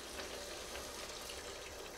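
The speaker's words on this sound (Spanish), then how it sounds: "voy a agregarle un poquito de agua." Water is poured into a pan of shrimp cooking in tomato, making a steady, dense hiss and splash that merges with sizzling and holds at an even level for two seconds with no talk.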